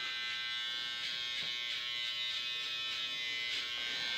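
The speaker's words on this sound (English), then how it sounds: "I'm using my little trimmer just to flatten the line off" Small electric hair trimmer buzzing steadily and fairly close while squaring off the edge of a graduated bob haircut, a continuous high whine with slight pulsing as it moves along the line.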